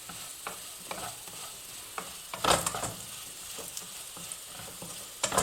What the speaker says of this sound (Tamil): இப்போ இந்த மாதிரி வெந்த பிறகு திரும்ப வந்து ஒரு 5 நிமிஷம் சிம்மில் வச்சு நல்லா டீப் ஃப்ரை பண்ணுங்கள்.